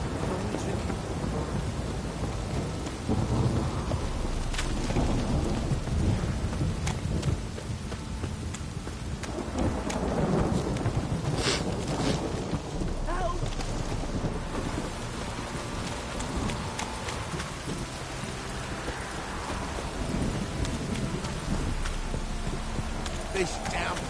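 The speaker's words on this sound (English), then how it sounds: "This downpour's a bastard" Heavy rain pours down steadily in The Witcher 3 video game, a dense unbroken wash of downpour with deep rolls of thunder swelling and fading underneath, loud and continuous throughout.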